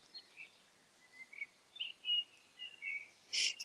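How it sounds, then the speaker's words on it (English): Birds chirp and sing in short scattered bursts close by near a river, faint water noise beneath, with one brighter call near the end. "So are the birds in this bit."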